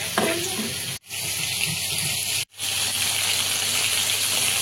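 Pabda fish sizzling loudly in hot oil with spices in a home kitchen pan, a steady close frying hiss broken by two brief dropouts.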